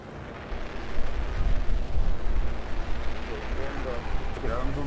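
Two grenade explosions in the video game Apex Legends, a deep rumbling blast with heavy low-end boom that swells after the first half-second and rolls on loudly throughout, with voices talking faintly underneath.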